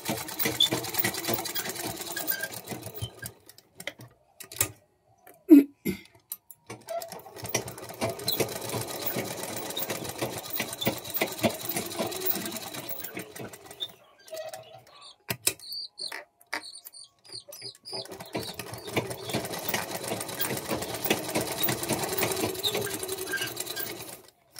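A sewing machine top-stitches along the border of a fabric piece in steady runs of rapid mechanical whirring, halting between passes with short pauses and handling clicks.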